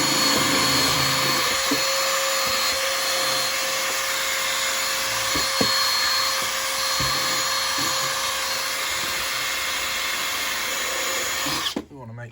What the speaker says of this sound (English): So I've got a wire brush. And I'm just going to key in.